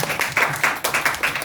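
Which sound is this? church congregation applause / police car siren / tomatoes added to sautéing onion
church congregation applause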